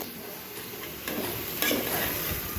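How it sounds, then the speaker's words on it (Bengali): Fish curry with radish sizzles steadily in a new pot on a new stove while being stirred. A constant hiss of frying fills the background, and close scraping stirs sound through it, growing slightly louder toward the end. "মাছ মরিচটা কষানো হয়ে গেছে এখন আমি দিয়েছি মূলা"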